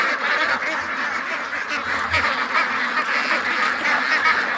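Pushy Muscovy ducks mill around at close range by a dockside door, giving a steady chatter of overlapping quacks and honk-like calls with no speaking.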